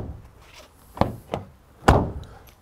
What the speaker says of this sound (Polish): Posłuchajcie, jak drzwi się zamykają.